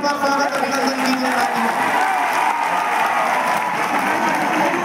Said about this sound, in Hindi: माननीय श्री राहुल गांधी जी का जोरदार तालियों के बजाय से इस बार स्वागत अभिनंदन कीजिए